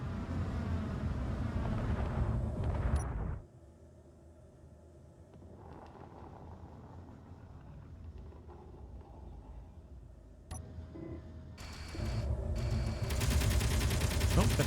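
Enemy guns firing in the underground survival game, heard as dense rumbling bursts that start loud, drop away into a quieter stretch with faint activity, then return strongly near the end.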